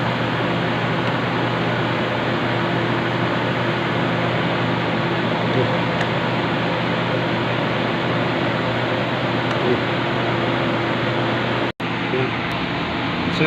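A rewound orbit ceiling fan motor runs on a temporary test switch, giving a steady, even hum with faint mechanical whir that holds constant, broken only by one brief click near the end.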